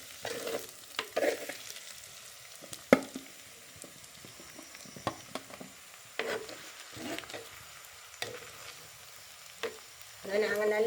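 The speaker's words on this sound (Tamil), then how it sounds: "எங்களுக்கு வெங்காயம், உள்ளி எல்லாம் நல்லா பொரிஞ்சிட்டுது. நான் வெட்டி வச்சுக்கிற பலாக்காயை சேர்த்துக்கொள்கிறேன்." Jackfruit pieces are added to onion and garlic frying in a pan, with a soft sizzle under scattered scraping stirs and clatter from a spoon.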